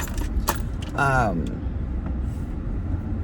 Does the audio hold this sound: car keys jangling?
yes